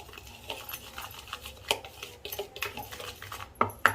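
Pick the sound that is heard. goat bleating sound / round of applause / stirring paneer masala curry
stirring paneer masala curry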